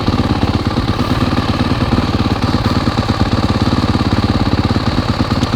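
A worn 2023 Suzuki RMZ-450 dirt bike engine idling loudly and close by, a steady rapid thumping idle with no other sounds over it.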